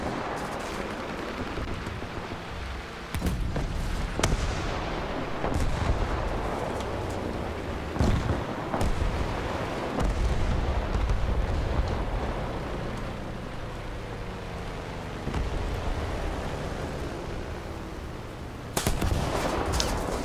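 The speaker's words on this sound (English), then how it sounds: "Okay, that guy exploded." A tank exploding in War Thunder realistic battles: loud continuous rumbling combat noise, with sharp blasts and gunfire-like cracks scattered through it and a heavy boom near the end, with no talk.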